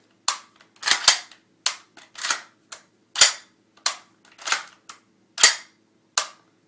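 Reassembled SCAR rifle being function tested, about a dozen sharp, crisp mechanical clicks and snaps at close range, irregularly spaced with brief silences between, no talk.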